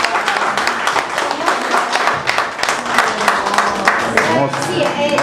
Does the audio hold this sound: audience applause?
yes